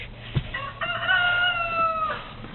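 Rooster crowing on a small farm, one clear drawn-out crow after a brief cluck, heard at moderate distance and fairly faint.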